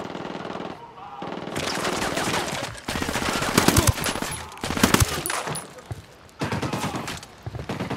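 Gunfire in Ghost Recon Wildlands, loud bursts of automatic weapon fire in rapid clusters separated by short pauses, with sharp individual reports among them.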